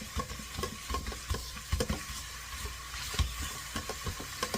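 Ground beef browning in a pan for beefy mac, a soft continuous sizzle broken by faint scraping stirs, quiet and close with no talking.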